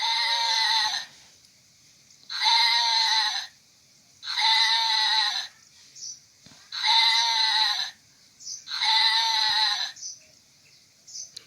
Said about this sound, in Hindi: भेड़ की, और वो आवाज़ ऐसी निकालता है